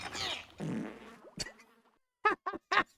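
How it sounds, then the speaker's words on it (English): A stock fart sound effect from the video game Lunar Silver Star Story plays with added reverb, a drawn-out low sputter followed by several short blurts amid a game scene, with voices around it. "They used stock fart sound effect."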